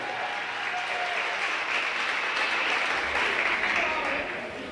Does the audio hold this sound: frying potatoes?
no